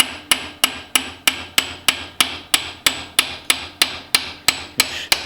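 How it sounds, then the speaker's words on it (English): Steady, evenly spaced hammer taps on metal, about fourteen sharp strikes in a regular rhythm, close and loud with nothing else around them, as a small hammer taps a bearing down into a reamed bushing on a 1932 roadster chassis. "I just use a little persuader hammer, and I'll tap it down through."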